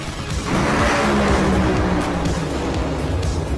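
An NHRA funny car sits in the wall after a hard crash with its throttle stuck open, a loud, sustained engine roar that swells in and holds steady at full force.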